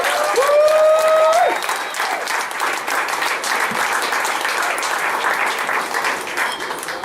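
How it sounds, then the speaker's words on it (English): A theatre audience gives a loud, sustained round of applause for the evening's performers at a veterans' arts event, dense clapping steady throughout, with a brief whistle near the start. "I want you to give another round of applause for everybody you saw this evening."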